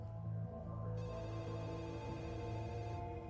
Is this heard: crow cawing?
no